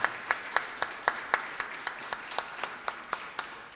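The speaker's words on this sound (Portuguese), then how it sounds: "Queria aqui pedir uma salva de palmas" Applause at a church service, heard as a steady rhythmic clapping of about fifteen crisp, even claps over four seconds that fade slightly toward the end, with no voices.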